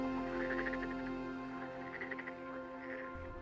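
Frog calling in a stream habitat of the Atacama desert, Chile: short bursts of rapid pulsed croaks repeating in clusters over steady low background hum, moderately close with no talking.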